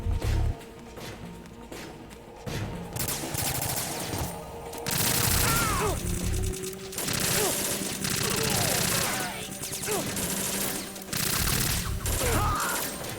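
Gunfire bursts in Metal Gear Solid 2, loud and repeated with cracks and impacts over a constant game soundscape, with a voice speaking at times.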